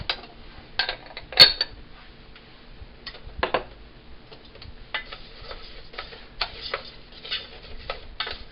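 Rice and a pinch of salt toasting in a pot, heard as a run of light, dry scrapes and clicks from stirring, spread unevenly over several seconds, with one sharper clink near the start and no talking.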